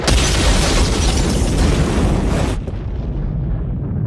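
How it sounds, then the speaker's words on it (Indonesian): A huge, roaring film explosion from a bomb on a spaceship fills the air with dense rumbling noise, then cuts to a lower, sustained deep rumble as the aftermath lingers. "Ledakan pun tak terhindari."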